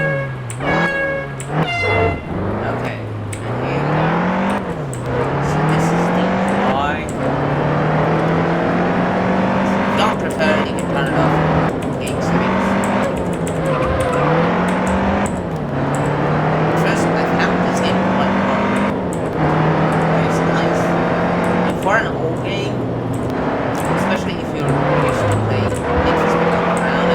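Car engine in the racing game Juiced, revving continuously with rising and falling pitch as it shifts gears and turns, loud and close throughout, with a voice talking over it.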